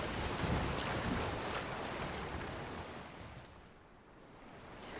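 Ocean waves wash steadily in Dragon's Dogma 2, a broad rushing surf with wind-like noise that swells and then eases toward the end, with no talk.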